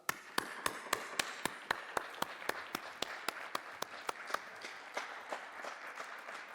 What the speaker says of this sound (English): let me invite you to make a big applause to yourself